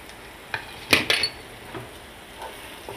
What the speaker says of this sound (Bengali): এবার সব কিছু খুব ভালো করে মিশিয়ে নিচ্ছি আর একটু ফ্রাই করে নিচ্ছি।